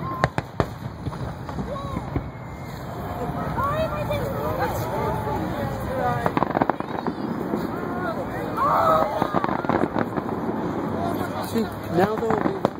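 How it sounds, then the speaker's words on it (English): Canada Day fireworks in Edmonton pop and crackle repeatedly at a distance amid a murmuring crowd and nearby chatter. "The great fireworks. See?"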